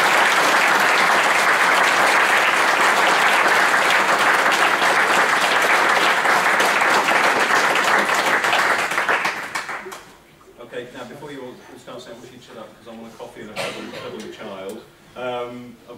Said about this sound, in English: a big round of applause again for us